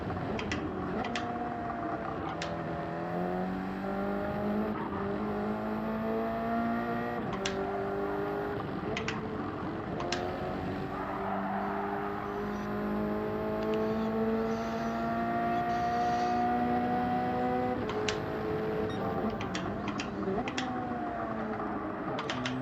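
An engine revs and climbs through gears in Gran Turismo 7, rising tones sweeping up and dropping back with sharp shift clicks, steady and fairly loud throughout.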